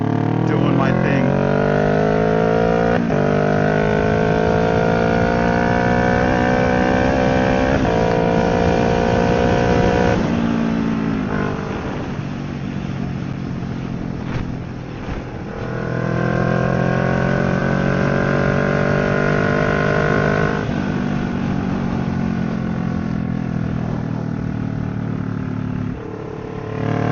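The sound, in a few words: Kawasaki Ninja motorcycle engine running in sixth gear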